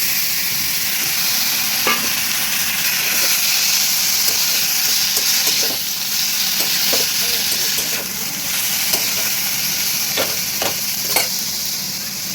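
Bitter gourd frying in a pan, a steady close sizzle and hiss with occasional light stirring scrapes, constant in level throughout.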